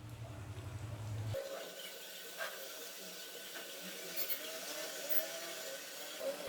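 Small rice-dough balls for Kaliyadakka, a Kerala snack, fry in hot oil with a continuous soft hissing sizzle and scattered crisp pops, faint and close.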